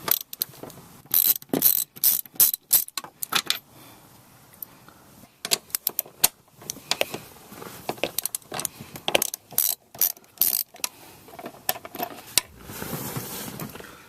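A hand ratchet rattles in quick, irregular bursts of clicking while car seat bolts are removed, close and crisp, with short pauses between strokes.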